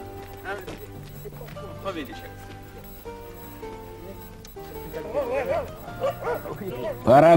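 A Rhodesian Ridgeback dog barks and yips in a quick run of sharp, close barks while a person talks over it.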